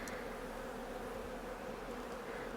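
Honeybees at an open hive kept for comb honey make a dense, continuous low buzz, steady and even throughout, a close droning swarm with no talk.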